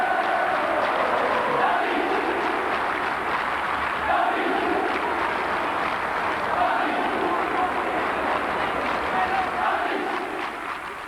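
A large Anfield football crowd sings together in a sustained, roaring chorus that swells and echoes through the stadium, dense and continuous throughout, fading slightly at the end.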